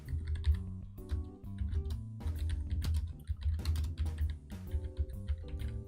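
Rapid keystrokes on a computer keyboard while entering code in Visual Studio 2022, a steady run of close, clicky taps with brief pauses, heard alone without talk.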